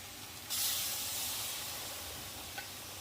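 Pork belly simmers in coconut milk thinned with water, a soft steady hiss that swells suddenly and then holds as a faint, even bubbling steam, with one small pop near the end.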